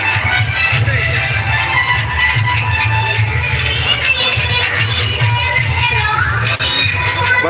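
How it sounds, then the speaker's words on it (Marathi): A large crowd fills a Navratri dandiya event with a dense, steady murmur of many voices and shuffling, continuous and close throughout. "भरपूर गर्दी आहे भरपूर क्राऊड आहे"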